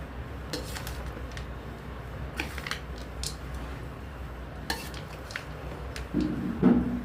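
A spoon scraping and clinking in a pot while pulihora tamarind rice is mixed with its tempering, with sparse metallic taps and scrapes over a soft background hum, growing busier near the end.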